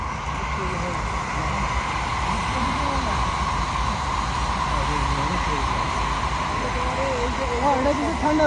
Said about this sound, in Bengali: হ্যাঁ, ট্রেন যাইতেছে।